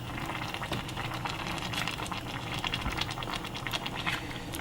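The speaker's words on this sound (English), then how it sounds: "we're just going to give it a last stir" Durban curry being stirred in a pot, a steady close scraping and wet bubbling texture running continuously for a few seconds with no talk.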